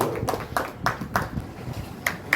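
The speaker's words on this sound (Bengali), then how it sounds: "হাততালি দিয়ে সম্মানিত করুন।" A crowd claps at an outdoor Durga Puja gathering to honour a legislator, with several brief bursts of hand claps scattered unevenly, close and moderately loud.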